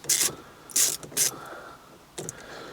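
A ratchet undoes a loose 10mm seat bolt in a Fiat 500, with three quick bursts of clicking close together, a pause, then one last short burst, near and crisp.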